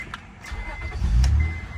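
A 1999 Acura 3.0CL fires up with a brief starter churn that swells into a steady, quiet idle, heard close with no voices.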